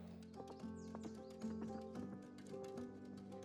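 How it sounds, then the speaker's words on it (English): Racehorses in training clip-clop with a steady rhythm of hoof strikes on hard ground, moderately close, over a faint hum of background noise. "Up early, training horses, it's a familiar routine for F Gutierrez"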